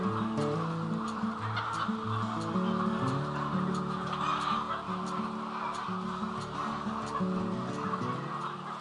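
A flock of laying hens clucks continuously inside a poultry house, with overlapping throaty calls and cackles forming a dense, steady chorus close by.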